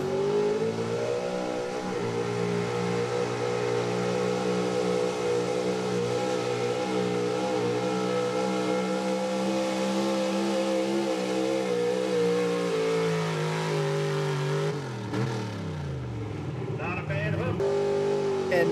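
Heavy pulling truck engine revving hard and sustained at high RPM at a truck and tractor pull, tires spinning, a loud roaring drone that dips and surges near the end, with talk over it.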